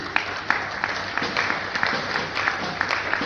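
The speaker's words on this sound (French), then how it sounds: "je vous prie d'applaudir" A room full of people claps steadily, a dense patter of hands at moderate distance with no voices standing out.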